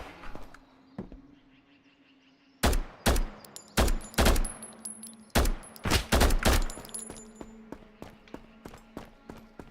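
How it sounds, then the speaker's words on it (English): Repeated gunfire from a man shooting out of a window in the Road to Vostok game, loud sharp shots in uneven bursts and clusters over several seconds, then fainter scattered pops, with a steady low hum underneath. "Guy's shooting me from the window."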